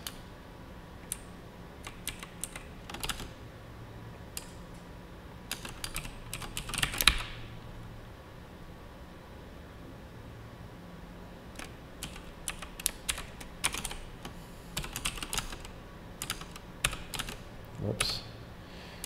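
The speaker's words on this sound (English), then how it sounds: "Hitting the wrong keys all over the place." Someone types on a computer keyboard in irregular bursts of clicky keystrokes with short pauses between them, close and fairly quiet, with faint background hum.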